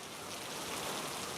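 Heavy monsoon rain falls over Thane and Bhiwandi as a brief, dense, steady hiss of downpour with no other sounds above it.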